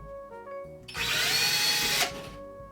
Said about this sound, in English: and drill a hole in.